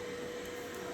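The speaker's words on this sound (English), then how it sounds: "Roomba's coming." A Roomba robot vacuum cleaner runs nearby as a faint, steady whirring hum with a soft airy hiss, unbroken for the whole moment with no voices.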